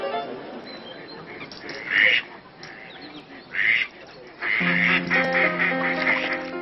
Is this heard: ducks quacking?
yes